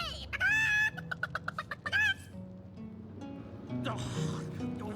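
A chicken in the fantasy role-playing game Divinity: Original Sin clucks in a rapid series of sharp, close squawks, then game voices speak over a low ambient background.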